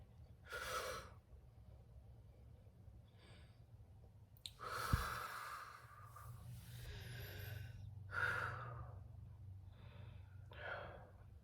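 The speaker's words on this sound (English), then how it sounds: "Breathe in, breathe out." Deep breaths in and out come through as several slow, breathy inhales and exhales spaced a few seconds apart, close and fairly soft over a low background hum.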